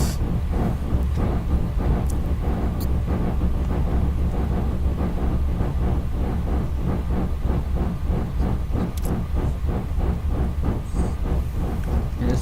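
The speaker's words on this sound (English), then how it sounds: "There's the caboose on the back of the train." Continuous rumble of a passing Southern Pacific cab forward steam train with caboose, in a train simulator, with rhythmic clattering and a constant hissing wash, close and steady throughout.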